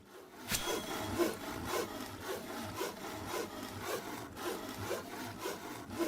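In the video game Stars and Empires, a wood saw strokes steadily back and forth for lumberjacking, a rhythmic rasping cut heard clearly and alone.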